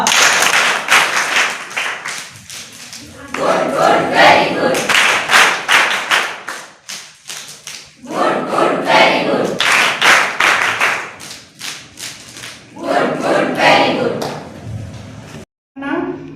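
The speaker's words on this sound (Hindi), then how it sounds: "गुड ताली बजा।" An audience at the closing ceremony of a college Rovers-Rangers camp breaks into loud, close clapping in several long bursts separated by brief pauses, with a voice speaking between them.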